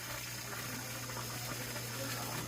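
An oxygen air pump hums steadily beside a koi fish tub, a low constant drone under a soft bubbling, water-like hiss that holds even and faint throughout, with no voices.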